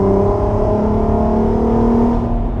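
A Volkswagen Golf 5 R32 with its naturally aspirated V6 engine accelerates, giving a loud, smooth, continuous growl whose pitch climbs steadily, heard up close with no talking.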